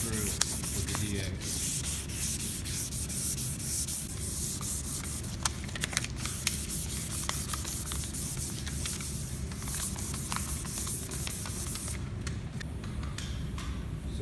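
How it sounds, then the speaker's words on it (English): Metal flake repair on a fiberglass boat is hand sanded, a steady close rasping rub that continues unbroken throughout with faint ticks. "we're going to hand sand any place where there's a radius"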